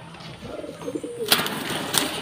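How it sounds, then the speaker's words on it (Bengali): Pigeons at a home loft give a short low coo, followed by a couple of sharp clicks over a quiet background. "এই যে পুরো বন্ধ লেজের পায়রা আছে"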